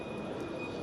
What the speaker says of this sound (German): Eine typische S-Bahn.